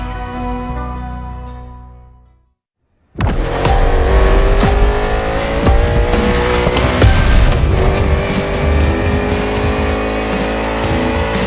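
The Thunderbolt race car in The Crew Motorfest fades out briefly, then roars back loud and close, its engine revving hard with shifting tones and some tire noise as it drives on.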